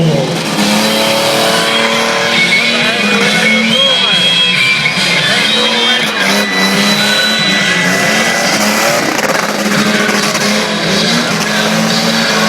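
BMW motorcycle engines revving at a moto festival: loud, sustained high-pitched engine whine rises and falls as throttles are blipped and riders accelerate, continuous and close throughout.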